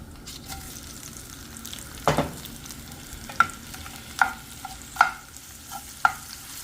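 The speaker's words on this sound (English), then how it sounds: "Alright, I'm going to add in my shrimp." Shrimp, still partly frozen, sautéing in a pan with chunky pesto couscous as a spatula stirs them: a steady low sizzle under sharp scraping strokes and a few clinking taps spaced about a second apart, no voices.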